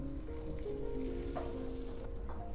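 Tamagoyaki egg mixture cooking in a pan gives a steady, soft sizzle that holds evenly throughout, with no talking.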